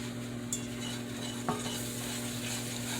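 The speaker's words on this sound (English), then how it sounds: "I'm going to get me a whisk, and we're going to start adding some milk to this." A whisk stirs milk into a meatball and noodle sauce in a pan over low heat, giving a steady wet swishing with a soft sizzle and a couple of faint clinks against the pan.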